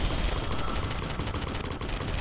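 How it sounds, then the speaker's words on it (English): Machine gun turret firing in the video game Marlow Briggs, a dense continuous rattle of rapid shots that stays loud and unbroken throughout. "You might have mentioned the machine gun."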